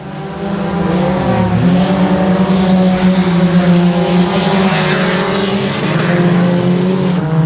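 Race cars roar around Sabine Speedway, loud and close, as a sustained engine drone with pitch rising and falling as cars pass and work through the corners.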